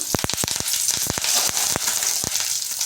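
Cumin seeds, mustard seeds and curry leaves sputter and crackle in hot oil, a steady bright sizzle punctuated by sharp popping bursts, heard close with no talking.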